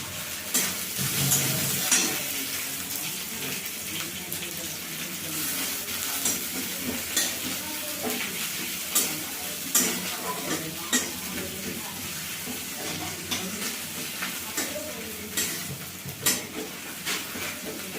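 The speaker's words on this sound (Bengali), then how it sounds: "প্রথমে রসুন ছোটো করো, তারপর পেঁয়াজ কুচি দিয়ে এটা ভেজে নেবো।" Chopped garlic and onion fry in a pan with a steady sizzle, broken by frequent scrapes and clinks of a spatula stirring against the metal, close and continuous.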